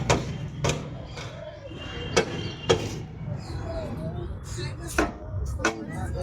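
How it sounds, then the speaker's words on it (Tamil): Handles tapped against the pipes of an outdoor musical instrument in Kolathur Lake Park, Chennai, giving a series of sharp, separate metallic knocks at an uneven pace over outdoor background noise. "அந்த ஹேண்டிலை நம்ம தட்டினோன்னா ஒரு பைப்லேயும் டிஃப்ரெண்ட்டான சவுண்டு வருது"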